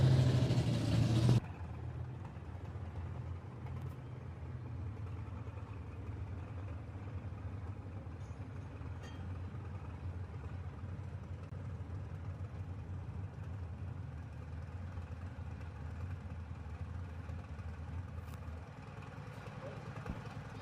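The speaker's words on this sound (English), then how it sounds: "Comes another one of our big block John Deere tractors coming out here." Big block 619 cubic inch John Deere pulling tractor engine at a truck and tractor pull event, a loud burst at first, then a steady distant low rumble running under faint crowd and announcer sound.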